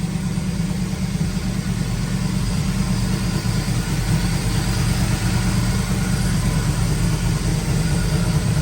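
A Landau car, unstarted for over a month and with a low front tire, idles steadily after starting, with a close, continuous low engine rumble and no talking.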